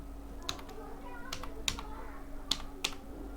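Someone typing a name on a computer keyboard in Photoshop, scattered close key clicks over a low steady hum, with a voice speaking between the keystrokes.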